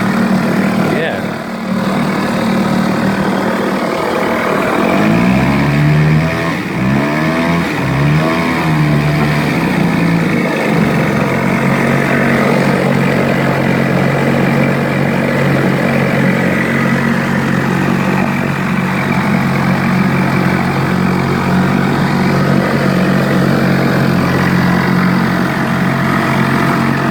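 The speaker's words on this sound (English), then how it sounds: "Outboard works." A small Yamaha/Mariner 2hp outboard motor runs steadily at close range, a continuous droning buzz with a brief change in pitch near the start, loud and unbroken throughout.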